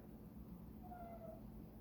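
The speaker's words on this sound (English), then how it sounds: "There's my cat." A house cat gives a single faint, drawn-out meow partway through, heard at a distance over a steady background hiss in a quiet room.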